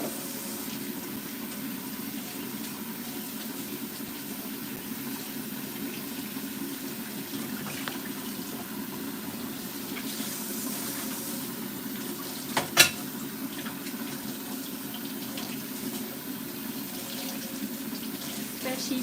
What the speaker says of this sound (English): And wash off my hand here.